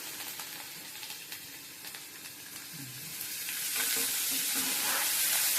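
Onions, green chillies and curry leaves fry in hot oil with mustard seeds, cumin and urad dal, a continuous crackling sizzle that swells louder toward the end, with no talking.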